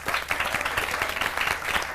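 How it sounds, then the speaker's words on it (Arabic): Studio audience applause on a television show featuring a magician, a brief steady patter of many hands clapping, fairly close, with no talk. "تصفيق لها"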